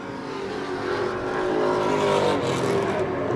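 Race cars roar past on an oval track, engine noise swelling and receding as the pack goes by, loud and continuous.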